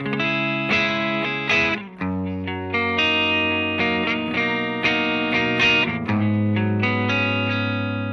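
Loud, heavily distorted electric guitar chords through the Positive Grid BIAS FX amp simulator turned all the way up ring out with sustained, saturated tone and a few brief pauses between strummed phrases.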